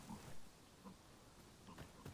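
Pigs in the game Dragon's Dogma 2 grunt and oink faintly over quiet ambient noise, giving a few short snuffling calls spread across two seconds.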